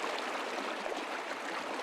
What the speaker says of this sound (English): I'm at Ward Creek on the west shore of Lake Tahoe.